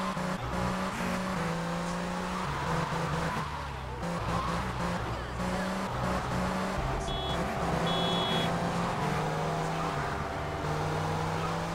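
A car in GTA Vice City drives continuously with a droning engine that shifts pitch as it speeds up and slows, joined by brief tire squeals and a couple of short electronic beeps midway.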